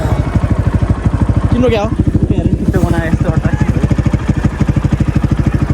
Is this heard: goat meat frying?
no